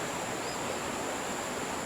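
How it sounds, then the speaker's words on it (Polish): Waterfall ambience in the fishing video game Fishing Planet, set on the Congo River: a steady, broad hiss of rushing water, continuous and moderately soft, heard on its own. "to jest najgorsze miejsce wodospad"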